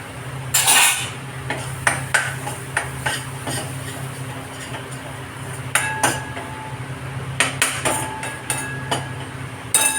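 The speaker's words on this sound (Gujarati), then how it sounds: "પછી હવે હું એમાં આ મગની દાળ જે છે આપણે બાફેલી છે એ નાખી દઉં છું" Boiled moong dal added to a cooking pan, heard as clanks and scrapes of a utensil against metal, a loud clatter at the start and sharp taps later, over a faint steady hum.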